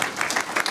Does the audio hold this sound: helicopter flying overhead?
no